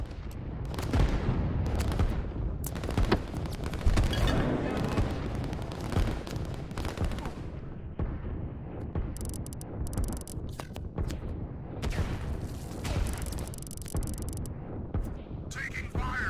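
Gunfire and artillery in the real-time strategy game Line Wars, scattered shots and rumbling blasts over a continuous battle din, with someone talking over it at times.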